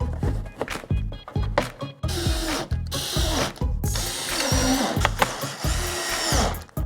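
Power drill driving fender liner screws on a 2014-2019 Cadillac CTS during a grille swap, with repeated short whirring bursts and ratcheting pulses close by, no talk.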